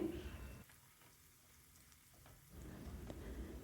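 Oggarane tempering with turmeric sizzles in hot oil for raw mango chitranna. The frying is faint and soft, dips quieter for a couple of seconds, then returns.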